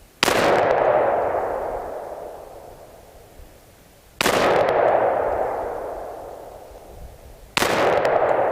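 An AR15 rifle with a standard A2 compensator fires three single loud shots outdoors, each a sharp crack followed by a long decaying echo, spaced several seconds apart.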